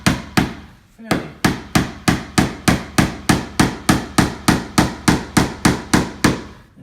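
Steady hammer blows driving finish nails into soft primed wall paneling, about twenty sharp, loud, close strikes at a regular, even rhythm after a short pause near the start.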